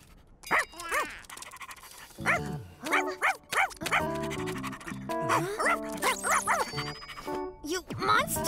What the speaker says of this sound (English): That's just a puppy, not a monster!